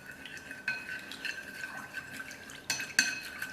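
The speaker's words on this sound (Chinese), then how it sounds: "搅拌均匀" Warm water and a cracked egg are stirred in a large bowl, with a utensil clinking and scraping against the bowl and faint liquid sloshing, close and fairly quiet.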